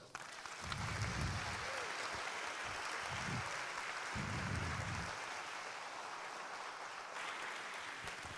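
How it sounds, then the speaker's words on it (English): Audience applause at the opening ceremony of THU 2018 LIVE, a broadband wash of many hands clapping that swells and stays steady for several seconds, then eases slightly toward the end. "A big applause for you guys."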